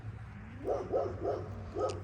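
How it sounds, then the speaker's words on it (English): A dog barks four times at a moderate distance, in a quick uneven series over a low steady hum, outdoors beside a cherry tree being pruned. "barking dog in the background."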